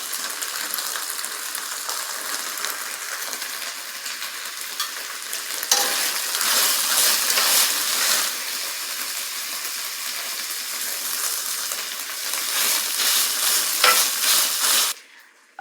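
Korean beef stir-fried with cabbage and carrots: a loud, continuous sizzle with rattling stirring strokes that swells mid-way and cuts off abruptly near the end.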